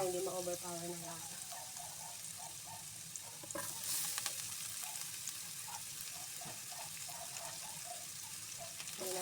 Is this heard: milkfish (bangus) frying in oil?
yes